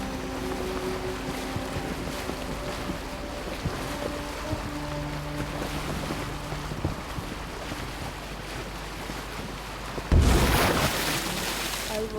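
A boat moves across water in the video game Assassin's Creed Origins, with a steady rush of wind and water wash under soft background music tones, swelling to a louder burst near the end.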